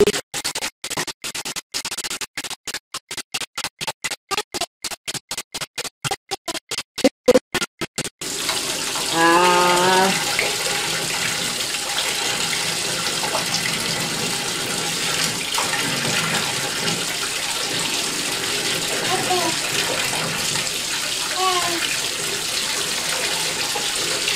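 Water runs into a bathtub at home for a baby's bath, first in choppy bursts and then as a steady, loud pour with splashing and faint small voices underneath.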